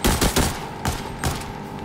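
Automatic gunfire in the mobile shooter Arena Breakout, a few quick close bursts of rapid shots followed by more distant volleys, with no talking.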